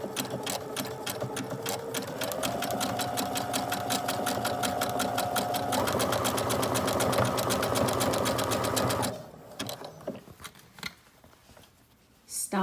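A sewing machine stitches an appliqué around a garment neckline in a fast, steady run of needle strokes, then stops near the end, leaving brief quieter handling noises.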